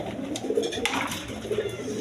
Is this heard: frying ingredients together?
no